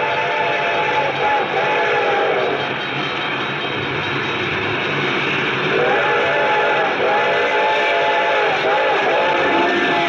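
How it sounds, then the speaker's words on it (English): A train bell rings and a whistle cries in a radio drama effect, a steady rumble of the approaching train carrying repeated bell strikes and a long whistle tone. "The train was coming closer. I could hear its bell ringing and the cry of its whistle."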